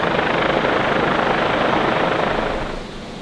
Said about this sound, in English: There's also a helicopter hovering over us